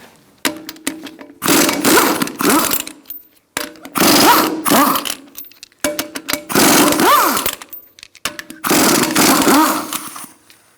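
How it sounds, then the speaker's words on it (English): A power tool spinning a 19mm socket to remove the lug nuts on a 2002-2006 Honda CR-V wheel, sounding as five loud, close, harsh whirring bursts of a second or two each, separated by short pauses. "Using a 19mm socket, we're going to remove our wheel"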